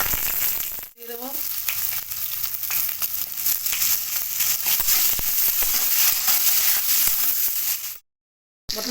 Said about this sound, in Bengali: এই যে পটলটা ভেজে নেব।